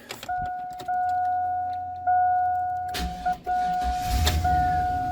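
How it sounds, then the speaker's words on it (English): A 2000 GMC Sierra 2500 HD pickup gives steady key-in warning chimes, then the engine cranks and catches into a low rumbling idle, heard close from inside the cab. "Let's gonna start the vehicle. I'm gonna put the key here."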